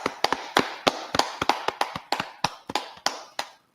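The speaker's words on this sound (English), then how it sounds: "Clap it up." An audience at a Harlem gathering of the Israelite School of Universal and Practical Knowledge claps in sharp, irregular bursts for about three and a half seconds, fairly close and fading at the end.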